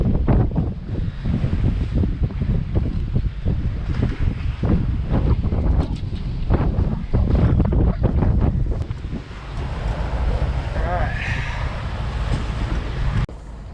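Strong wind roars across the microphone on a sailboat in rough seas during cyclone season near Tonga, with waves crashing and surging against the hull throughout; the gusts stay loud and steady, easing only slightly toward the end.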